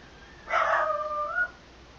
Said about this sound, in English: I'm sorry everyone if my dog is really noisy.